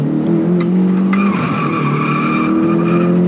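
Mitsubishi Evo tires squealing steadily on a race track as the car understeers, a loud continuous screech over engine roar that shifts in pitch partway through, with no voices.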